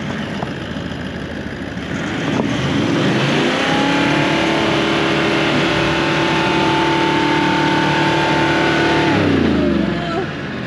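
A car engine revs hard and holds a steady strained note while backing onto loose shelly ground in South Australia, rising from about two seconds and easing off near the end, loud and close.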